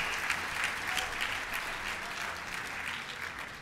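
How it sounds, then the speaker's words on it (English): Sustained audience applause at an alumni awards gala, many hands clapping together in a steady, moderately loud wash of claps with no pauses. "A round of applause for our former distinguished alumni who join us here this evening."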